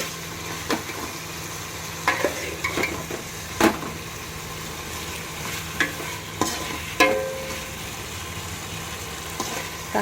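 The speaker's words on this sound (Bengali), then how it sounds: "সবজিগুলো দিয়ে দিচ্ছি, এবার ভালো করে ভেজে নেব" Vegetables frying in a pan with a spatula stirring them, a steady sizzle punctuated by sharp, irregular scraping and clanking strokes close by.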